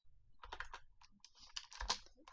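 Close, quiet clicks of a computer keyboard as code is typed, a short burst of uneven keystrokes with small pauses and a heavier tap near the end, no talk.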